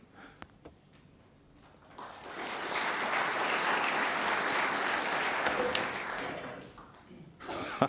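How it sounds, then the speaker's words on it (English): Snooker crowd applauding at the Crucible during the World Championship, quiet room noise rising into a sustained, full round of clapping for several seconds before fading back to near silence. "He gets a terrific round of applause"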